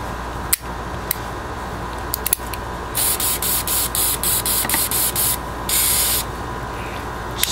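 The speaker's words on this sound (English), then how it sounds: "spray the actions out a little bit" Several bursts of aerosol gun oil spray hiss in quick succession onto Ruger pistol actions, close and fairly loud, with a few sharp mechanical clicks before them.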